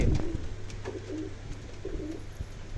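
Pigeons in a loft coo in soft, low, rolling calls, several close by and overlapping, with faint rustling behind them.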